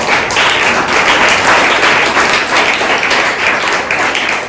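A church congregation claps during a pastor's sermon, a dense, loud, continuous round of applause from many hands nearby.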